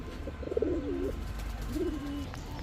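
High-flying Giribaz pigeons coo close by, with two soft rolling coos separated by a short pause over low background hum.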